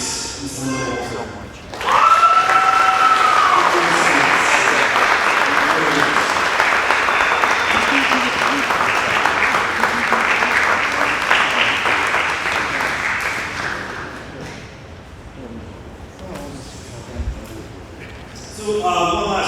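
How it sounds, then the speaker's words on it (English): Sustained audience applause for retirees at a school board of education meeting, starting abruptly, staying loud and dense for about twelve seconds, then thinning out into scattered claps and murmur. "So, one last round of applause for our retirees."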